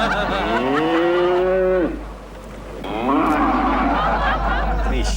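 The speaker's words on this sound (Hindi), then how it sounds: "मुंबई में मुझे कहीं से भी भैंस की आवाज नहीं मिल रही थी।" A buffalo moos in two long, loud, close calls, the first drawn out and sliding down, the second after a short pause, with a low steady hum underneath.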